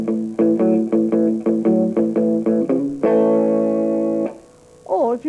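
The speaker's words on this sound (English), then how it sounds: "you can use this technique either to get quite a chunky chord sound like this" Chunky palm-muted electric guitar chords in a rock lesson, a rhythmic string of short, damped strums followed by a longer ringing chord, played alone and close.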